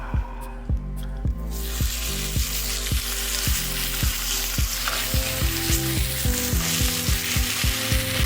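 Olive Pork samgyeopsal, Korean pork belly, sizzles steadily in a pan as a hissing wash of frying. A regular rhythmic ticking beat runs beneath it throughout.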